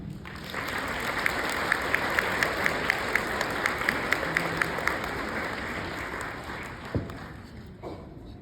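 An audience at a donor family tribute event breaks into sustained applause to welcome a speaker, a steady wash of many hands clapping with a few sharp nearer claps, fading out at the end.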